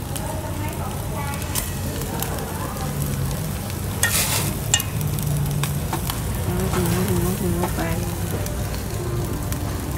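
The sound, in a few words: grilling nem rolls at home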